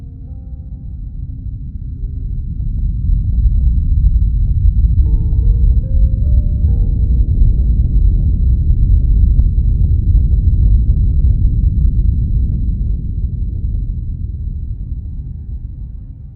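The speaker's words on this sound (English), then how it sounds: "The sound you hear is the earthquake happening in real time, the noise produced as the ocean floor split" Deep underwater rumble from the 2004 Sumatra earthquake as the ocean floor split and shifted, a loud low roar that swells over several seconds, holds steady, then slowly fades.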